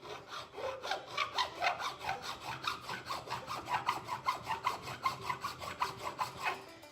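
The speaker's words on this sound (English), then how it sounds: "we're gonna file a notch straight down halfway through this first land here" A hand file cuts a notch into a 46RE transmission valve body land with rapid, even back-and-forth strokes, a close, steady metallic rasping rhythm with no talking.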